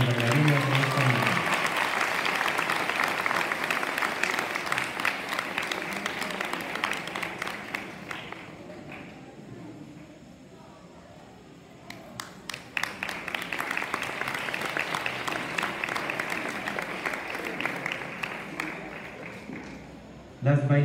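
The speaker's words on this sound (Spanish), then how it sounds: "Un fuerte aplauso para nuestra bailarina de esta noche." An audience applauds a ballet dancer at a ballet school's bicentennial celebration. The clapping is loud and sustained, fades briefly to a lull and then swells again, with crowd noise and some voices mixed in.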